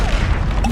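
A deep booming blast from the Confringo explosive spell in the Hogwarts Legacy game, a short loud low rumble filling the moment without speech.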